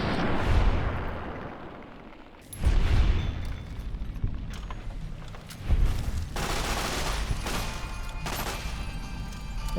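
Rapid bursts of gunfire in Fallout: New Vegas as scorpions in a motel room are shot, with several loud, close volleys and booming impacts separated by brief lulls, no talking.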